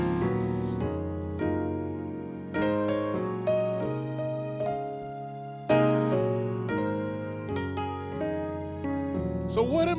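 Piano playing full, voiced major and minor chords, rich sustained chords struck in a slow, even progression, close and resonant with no talk over them.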